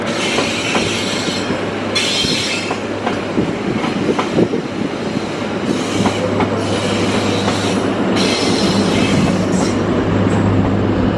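An electric commuter train rolls past close by at Jatinegara station, steady rumble with rhythmic wheel clacks and occasional metallic squeals, loud and continuous throughout.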